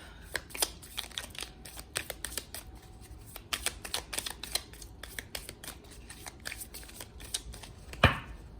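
Playing cards are riffled and shuffled up close in quick, crisp bursts of fluttering clicks that repeat steadily, ending with one sharper slap as the deck is cut.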